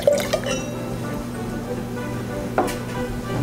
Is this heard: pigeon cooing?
no